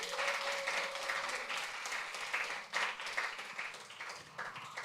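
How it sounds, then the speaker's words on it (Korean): Applause from an audience at a Korean Christian concert, a full crowd clapping continuously with individual hand claps standing out and a slight dip partway through. "다시 한번 뜨거운 박수 부탁드립니다."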